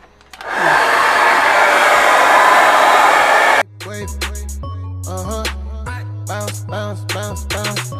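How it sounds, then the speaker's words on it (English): A hair dryer used to blow-dry natural 4C hair roars loud and steady for about three seconds, then cuts off sharply and gives way to rhythmic music. "right now I'm just going to blow dry my hair."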